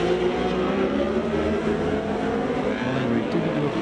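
Racing motorcycle engines at the Macau Grand Prix street circuit, a steady loud roar from the bikes running continuously under an announcer's commentary.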